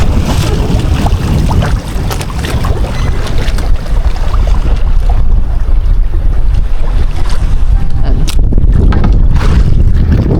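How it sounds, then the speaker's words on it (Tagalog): Big sea waves and strong wind batter a small fishing boat out at sea at dusk, a loud continuous roar of wind buffeting the microphone with waves slapping and splashing against the hull. "Malaking alon."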